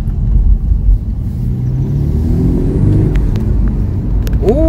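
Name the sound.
car turbo sound while driving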